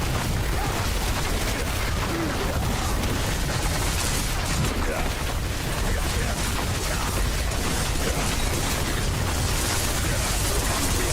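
Dense, continuous roar of explosions and blasts from a Diablo IV boss fight, loud and unbroken throughout with no pauses.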